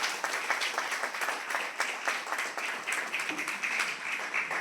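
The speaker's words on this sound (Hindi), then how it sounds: "हम आज उनको बुलाना चाहते हैं आप सब लोग की तालियों के बीच में।" An audience at an RCM business program claps to welcome a speaker onto the stage, producing dense, even applause that holds at a steady moderate level throughout.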